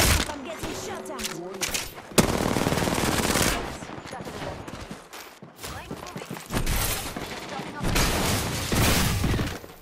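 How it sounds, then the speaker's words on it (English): Dense video game gunfire in a battle royale match, rapid automatic bursts and shots in loud clusters with short lulls, under game voice callouts. "I'm getting shot at."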